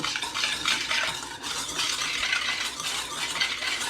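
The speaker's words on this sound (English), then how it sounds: "I'm going to whisk together the flour and the sugar" Flour and sugar whisked together in a pot for Crixa pastry cream, a steady close scratchy stirring and light tapping that runs without pause and with no talk.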